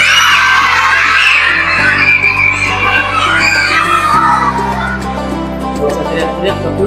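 Many children shout loudly together at a Ramadan fast-breaking gathering, a dense, sustained roar of young voices filling the whole stretch, with a low electronic hum underneath.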